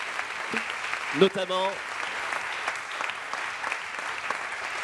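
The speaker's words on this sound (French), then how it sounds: "Vous pouvez les applaudir" Moderate audience applause at a business awards gathering, an even, steady patter of many hands clapping at middle distance while a voice briefly speaks over it near the start.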